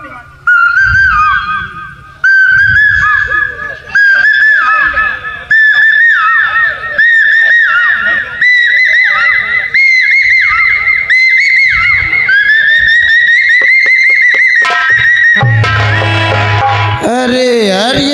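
A man imitates the call of the papiha (hawk-cuckoo) bird, likely by whistling, producing a long run of loud, shrill, repeated rising whistled phrases close to the microphone, ending in a brief noisier burst.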